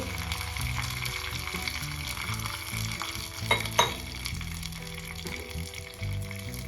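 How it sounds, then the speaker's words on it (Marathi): A cup of water hits a hot tadka of green chillies, curry leaves and coriander for palak dhokla, setting off loud steady sizzling with a couple of sharper hisses midway, over soft background music. "आता इथे मी एक कप पाणी टाकणार आहे"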